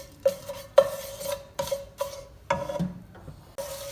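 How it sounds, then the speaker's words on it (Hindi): Cardamom, kalonji, fenugreek and mustard seeds frying in oil, stirred with a spoon that scrapes and clinks against the pan in a run of rhythmic strokes, close, over faint sizzling. "इन सब मसालों को हम करेंगे ऑयल के अंदर ऐड और इनको हम तकरीबन 1 मिनट तक करेंगे फ्राई"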